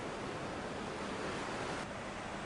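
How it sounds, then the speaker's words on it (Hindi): The swollen Alaknanda river rushes close to the danger mark after flooding the bathing ghats, a loud, unbroken roar of churning water that stays steady throughout, with no voices. "चारों ही तरफ से पानी का ये सैलाब"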